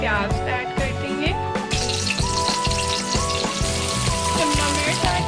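Chopped onion fries in hot oil in a wok, a steady loud sizzle and hiss that runs throughout under background music.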